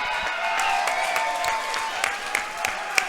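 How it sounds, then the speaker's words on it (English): Arena crowd at an MMA fight applauds two women fighters before the judges' decision, a close, steady clapping with scattered louder individual claps and faint whoops near the end. "how about a round of applause for the two ladies"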